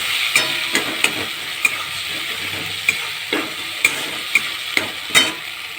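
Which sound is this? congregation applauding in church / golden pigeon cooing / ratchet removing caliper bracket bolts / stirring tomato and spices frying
stirring tomato and spices frying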